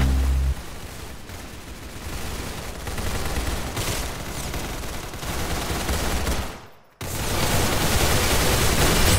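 Sustained rapid gunfire from the Roblox shooter Arsenal, a dense continuous barrage that briefly drops out and then resumes at full volume.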